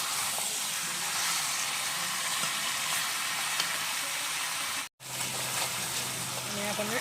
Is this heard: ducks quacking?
no